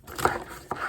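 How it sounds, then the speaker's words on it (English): A knife slices through the fat on raw chicken thighs, giving two short, close scraping cuts a moment apart, with no talking. "And you just cut that shit off."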